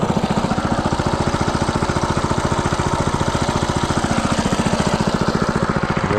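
A motorcycle engine runs close by with a fast, even chug, a steady rhythmic throb that holds the same pace throughout, loud and alone with no speech.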